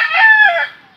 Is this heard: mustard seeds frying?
no